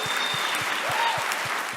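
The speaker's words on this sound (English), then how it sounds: "Let's give Dean Rashad a round of applause." Steady, dense applause from a keynote audience at a Burbank conference fills the room, with a low regular thumping pulse underneath and faint voices mixed in.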